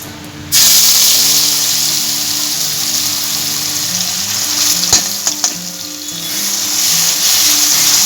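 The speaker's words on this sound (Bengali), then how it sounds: "এবারে যে মশলাটা আমি বেটে রেখেছি এই মশলাটাই তেলের মধ্যে আমি দিয়ে দিচ্ছি" Ground spice paste drops into hot oil and erupts into a loud, close, steady sizzle and hiss that stays strong, with a few utensil knocks in the middle and a low background hum.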